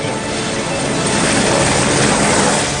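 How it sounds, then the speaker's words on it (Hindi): Helicopters flying during an earthquake rescue of climbers near Mount Everest in Nepal, including Indian Air Force helicopters, produce a loud, continuous rotor and engine roar that holds steady from start to finish. "पर्वतारोहियों को बचाने के लिए हेलीकॉप्टर भेजे गए।"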